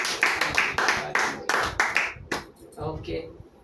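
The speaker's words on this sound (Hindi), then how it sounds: "जोरदार ताली से धन्यवाद" A church congregation claps in loud, distinct bursts with a rough rhythm, the clapping thinning out and fading toward the end, with voices audible alongside.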